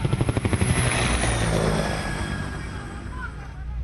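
A military helicopter flies out on naval reconnaissance against pirates, its rotor thudding fast and loud at the start, then settling into a steady, close engine roar.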